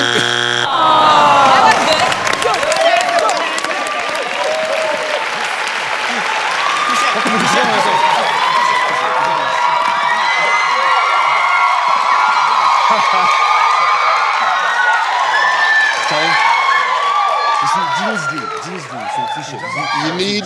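Studio audience applause on the Ghanaian Family Feud game show, a long, steady, dense clapping that fills the room, with cheers and whoops rising through it and voices mixed underneath.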